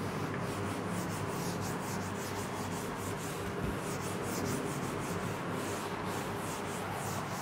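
Writing from a physics lecture on interference is rubbed off a board in a continuous, close, scratchy scrubbing that keeps an even level throughout, with no talking.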